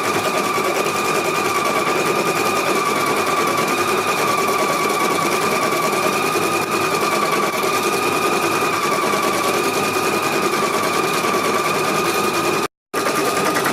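A Pfaff embroidery sewing machine stitches out a large design, giving a steady, continuous mechanical whir with a constant stitching pulse, close and loud, with one brief dropout near the end.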